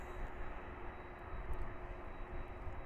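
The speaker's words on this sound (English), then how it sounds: "It's the Dreamliner coming in from Haneda." A United Boeing 787 Dreamliner arriving at Los Angeles airport, heard as a steady, fairly faint jet-engine roar with no voices.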